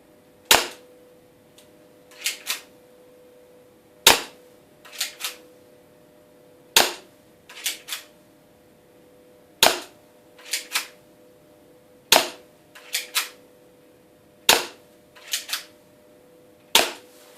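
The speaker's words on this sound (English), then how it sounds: "This is a 260 feet per second Walther P22." A Walther P22 airsoft pistol rated at 260 feet per second fires sharp, snappy shots indoors. Single shots alternate with quick pairs at an irregular pace, each crack followed by a faint smack.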